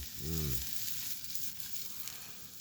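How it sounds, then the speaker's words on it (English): Steady, close sizzling of onions frying in a pan at an outdoor camp, a bright crackling hiss throughout, with a short low hum near the start. "Throw those onions on in there and let them saute down."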